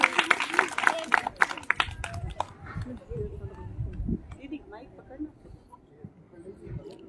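Short burst of audience clapping to encourage a young performer who placed second nationally, strong for the first couple of seconds and then fading into murmuring voices and room noise.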